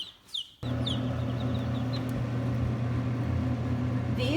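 Americana chickens cluck and chirp close by after a short quiet start, over a steady mechanical hum that runs underneath, with a few brief squawks toward the end.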